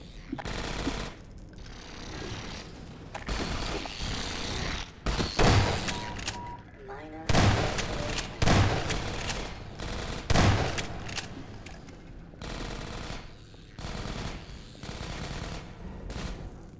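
Gunfire rings out in the shooter game Half-Life 2: Episode One. Repeated bursts of automatic fire and single heavy shots come in uneven clusters, loud and close, with voices heard at times between and under the firing.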